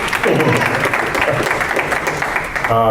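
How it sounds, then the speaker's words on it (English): Audience applause at a civic gathering, a steady sustained wash of clapping from a crowd filling the whole clip, fairly loud and close, with some voices mixed in. "give yourselves a round of applause and a hearty huzzah!"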